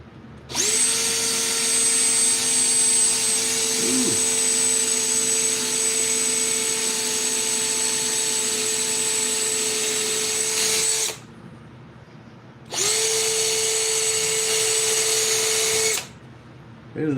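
A power drill boring holes in tough wood whines at a steady high pitch for about ten seconds, stops briefly, then runs again for a few more seconds, close by.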